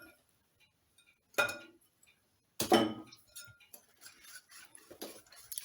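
A utensil stirring pumpkin biscuit dough with icing sugar and sunflower oil in a bowl gives sparse clinks and scrapes against the bowl. Two sharper knocks stand out, then a cluster of lighter taps, close and quiet, with no talking.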